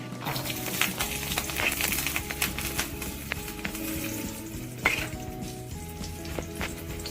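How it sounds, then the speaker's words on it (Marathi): Garlic dropped into hot oil for idli chutney tempering sizzles and crackles close by, with a clink of a pot and scattered sharp pops over a steady frying hiss, no voices. "लसूण टाकूया तेलात."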